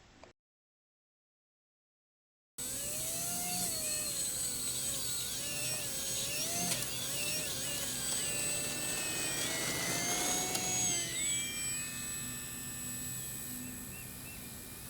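E-Flite Micro Scrappy 800mm RC bush plane in flight, its small electric motor giving a high, whining buzz whose pitch rises and falls with throttle, loud and continuous after a brief silence.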